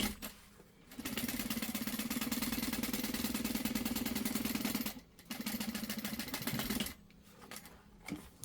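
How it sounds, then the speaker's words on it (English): A sewing machine top stitches a LindSport mini backpack being converted to full size, its rapid mechanical chatter running in two long bursts separated by a short pause, then a brief final burst, loud and close. "I'm going to top stitch."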